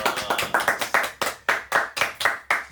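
A small audience claps for a show, a sparse, uneven run of about a dozen sharp hand claps, close and distinct, with gaps between them.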